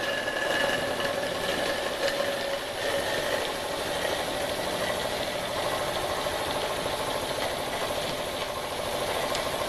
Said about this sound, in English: Want to show you a running of my new to me Jensen 50